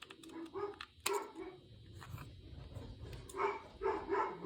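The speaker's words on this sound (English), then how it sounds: "Just couldn't get away with 2 or 3 videos without dogs barking, right?" Several dogs bark in short, irregular bursts at a moderate distance, with yips and whimpers mixed in against a quiet background.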